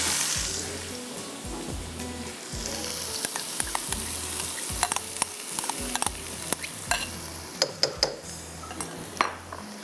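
Chopped onions fry in a pan and get stirred, a steady close sizzle under repeated scraping strokes and a few sharp clinks of the utensil against the pan.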